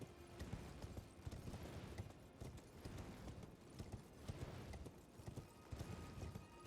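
Horse hooves clip-clop at a steady trot in the open-world game Elden Ring, a quiet, continuous run of soft hoofbeats with no talking.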